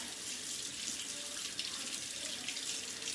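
A tap runs steadily while a makeup sponge is rinsed under it, a continuous close hiss of flowing water into a sink with no talking.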